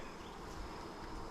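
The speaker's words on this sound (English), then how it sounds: "Boy, that's just loaded with bees." Honey bees buzz in a dense, steady hum from a hive loaded with bees during an open inspection, close and continuous though fairly quiet.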